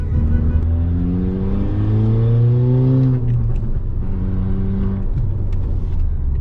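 A Skoda Laura vRS engine revs up loud and close from inside the car, climbing in pitch, easing off, then building again in a strong steady drone.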